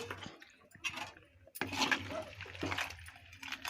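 Coconut milk is poured into a simmering crab gravy, giving a close, splashy liquid pour with gurgling bursts, strongest after a short pause in the middle.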